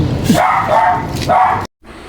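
Stray dogs bark a few times close by over a noisy, rumbling background, then the sound cuts off abruptly.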